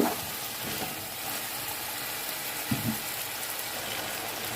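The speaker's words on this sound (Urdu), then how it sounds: "چکن اچھے سے فرائی ہو چکا ہے" Chicken frying in a pot with spices for Punjabi chicken pulao, a steady, quiet, even sizzle with a couple of faint stirring knocks.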